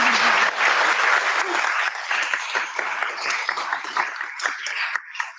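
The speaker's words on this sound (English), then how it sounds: "I think they deserve a round of applause." A room full of people at a council annual general meeting breaks into applause, sustained clapping that starts loud and gradually thins out as individual claps become distinct.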